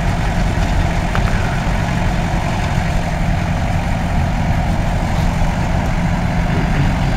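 A vehicle fitted with a winch idles steadily, a loud, close, unbroken low engine rumble with no change in pace.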